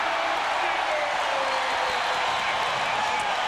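Packed arena crowd at a 1994 NBA playoff game between the Jazz and Nuggets roars in a loud, steady wash of cheering with no breaks, a commentator's voice faintly under it.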